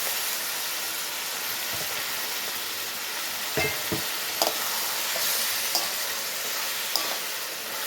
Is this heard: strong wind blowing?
no